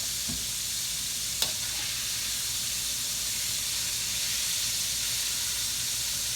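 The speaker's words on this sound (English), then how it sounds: "I got some butter on these buns here. I'm gonna toast them all." Butter-coated sandwich buns toast in a pan with a steady, even sizzle and hiss, nearby and continuous, with a single faint clink early on.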